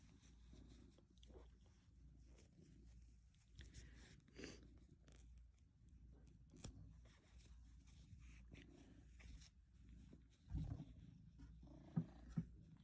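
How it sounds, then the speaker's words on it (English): A pet cat purrs softly and steadily for several seconds close up, a faint low rumble with occasional small bumps and rustles, and no talking. "And there's my cat."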